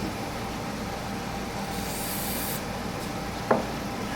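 A thin coat of Starbond CA glue is wiped onto a copper kit pen with folded paper towel, making a steady, close, breathy rubbing hiss with one brief sharp tick partway through.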